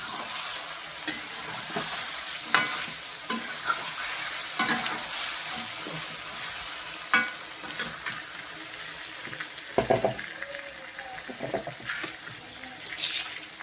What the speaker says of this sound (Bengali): তখন কিছুক্ষণ তেলে ভাজা ভাজা হতে থাকবে।